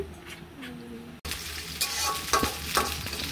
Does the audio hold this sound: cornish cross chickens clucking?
no